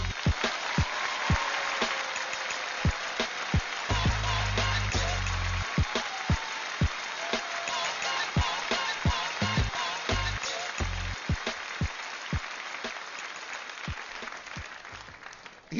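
Audience applause for a poet at a spoken-word poetry show in New York, steady dense clapping with sharp individual claps popping out, sustained for the whole stretch.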